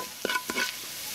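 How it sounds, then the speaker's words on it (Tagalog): Garlic sautéing in a little oil gives a soft, quiet sizzle, broken by a few brief scraping stirs and clinks near the start, with no one talking. "nagtinala ko ng kunting mantika at para igisa natin ang bawang."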